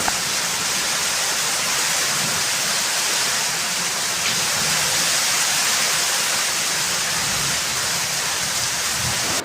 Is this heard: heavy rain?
yes